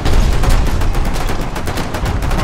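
Loud, dense gunfire in the war video game Foxhole, rapid repeated shots and bursts overlapping in a sustained barrage with no talking.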